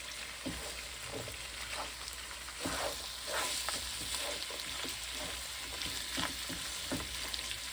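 Beef neck bones fry in hot grease with a steady, close sizzle, broken by scattered pops and stirring sounds, and no voices.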